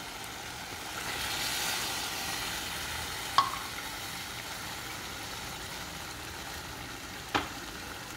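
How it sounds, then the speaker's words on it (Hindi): Chicken frying with spices in a pan gives off a steady, soft sizzle throughout, broken by two brief sharp clinks of a utensil. It sounds close and even, with no talking. "5 मिनट्स चिकन को अच्छी तरह फ्राई करें मसाले के साथ।"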